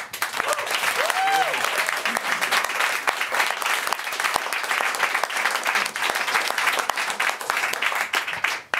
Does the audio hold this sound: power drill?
no